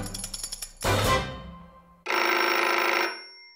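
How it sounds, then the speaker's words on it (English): A telephone rings in a family home in a spoken storytelling of Mary Poppins: a long electronic ring burst follows earlier tones and a noisy rush, loud and close with no talk. "Suddenly the phone rang."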